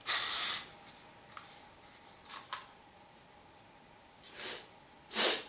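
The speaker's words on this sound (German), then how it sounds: "Ich sprühe mal wieder." Several short hissing bursts of Axe Body Spray Black deodorant from an aerosol can, a loud spray at the start and another near the end, with fainter puffs and sniffing between them in a quiet room.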